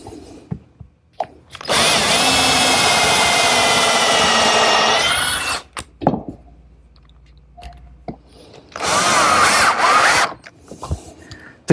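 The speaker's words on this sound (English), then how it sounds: "pre-drill some holes, and attach it with some screws." A power drill bores pilot holes and drives screws into wood on a chop saw station build, two sustained whirring runs with short bursts and handling knocks between them, close and loud.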